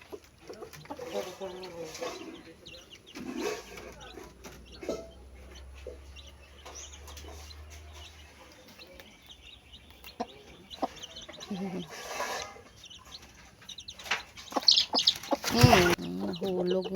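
A mother hen with a new batch of chicks clucks in soft, repeated bursts scattered through the clip during feeding, mixed with low voices talking and some rustling and sharp knocks nearby.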